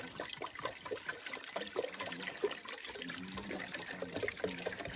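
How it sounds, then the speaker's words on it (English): Water pouring steadily into a clean cooking pot outdoors, a continuous splashing trickle with a slightly rising, hollow tone, close by and without voices. "getting a nice clean pot guys, nice clean pot, and fill it up with some water"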